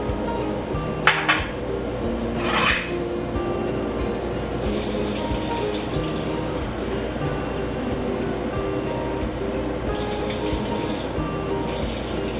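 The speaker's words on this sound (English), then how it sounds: "So I just sort of go on the tap water" Tap water runs steadily into a sink in a home kitchen while bread dough is being prepared, a continuous close splashing with a few brief surges in flow.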